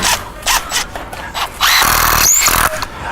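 Impact driver driving screws into 2x4 wood, loud close bursts of whirring and rattling hammer impacts in several short runs with a longer burst near the end.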